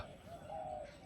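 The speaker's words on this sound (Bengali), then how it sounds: "শুধু পাখির ডাক ছাড়া আর কিছু কোথাও" A soft, drawn-out cooing call from a bird, faint against a quiet outdoor background.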